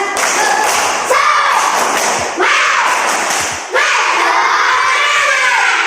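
A classroom of children performs the rhythmic tepuk semangat clapping chant, loud group claps and thumps landing in bursts with excited shouting voices, the room full and close.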